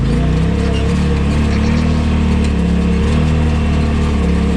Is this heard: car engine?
yes